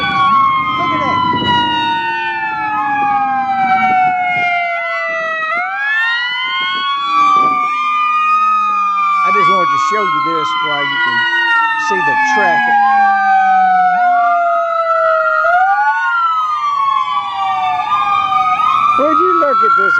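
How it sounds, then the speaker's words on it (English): Ambulance siren wailing loudly through city traffic, several overlapping sirens sweeping up and down continuously, with other vehicles nearby and a person talking over it. "Ambulance. Look at that."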